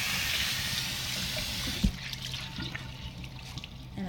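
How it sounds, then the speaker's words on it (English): An enviro cloth is rinsed under a running tap: steady gushing water that cuts off after about two seconds, followed by faint drips and handling noises, with no speech. "I can go and just rinse it out, give it a quick rinse,"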